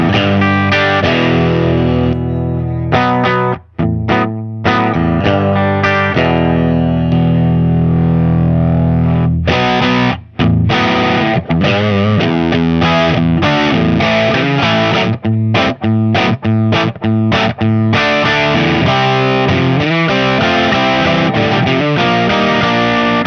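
Electric guitar runs through a T-Rex Fat Shuga boost and reverb pedal, playing loud, driven rhythm chords with thick distortion and a reverb tail, strummed in bursts with short breaks and no talking.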